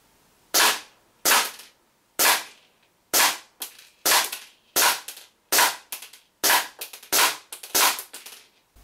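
A WE 1911 4.3 green gas blowback airsoft pistol fires 0.2 gram BBs on a range: about twelve sharp, loud cracks, each with a brief slide-clack tail, in an uneven rapid rhythm with short pauses between some shots.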